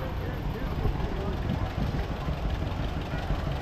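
A 1952 Farmall Super C tractor in an antique power parade, its engine a steady low chugging rumble with loose knocking, heard under a voice speaking over a loudspeaker.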